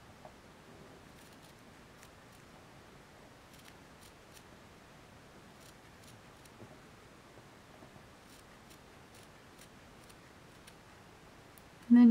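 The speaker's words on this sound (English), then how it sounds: "you can just cut along the line that you traced without worrying about cutting any stitches." Scissors snipping through minky plush fabric along a traced line, a faint sparse series of crisp clicks and blade snips over a quiet room hiss.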